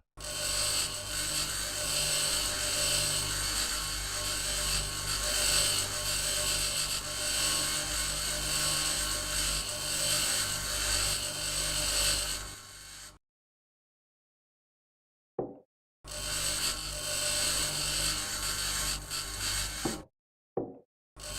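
A handheld grinder grinds down material on the walls inside a building in the Mars survival game Occupy Mars. A loud, steady mechanical whir runs for about thirteen seconds, falls silent, then starts up again briefly twice.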